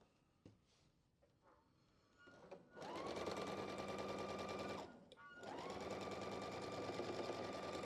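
Sewing machine stitching a quilt block, starting with a few soft clicks and then running in two long, loud, steady bursts with a short break between, close up.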